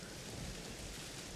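Rain in the video game The Medium, a dense, steady wash of falling water with a low, rumbling undertone like distant thunder.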